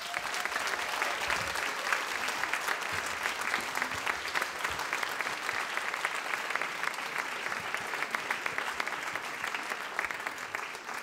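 Sustained applause from a large audience at a musical performance, steady dense clapping that stays loud for the whole stretch without letting up.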